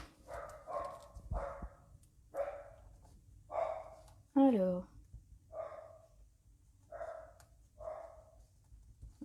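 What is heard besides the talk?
dogs barking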